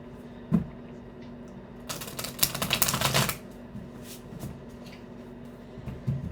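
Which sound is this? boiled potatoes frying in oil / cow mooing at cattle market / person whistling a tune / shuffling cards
shuffling cards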